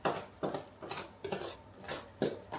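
Lemon tea cake batter scraped from a bowl into a prepared baking pan, with a series of short scraping and clinking strokes of utensil against bowl and pan, close up and spaced about half a second apart.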